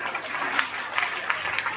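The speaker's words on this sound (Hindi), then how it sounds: "तालियां बजाओ अपने लिए।" A seated audience claps for themselves at an indoor network-marketing seminar: dense, steady applause with a few sharper hand strikes, mid-distance and fairly loud, filling the room without talk.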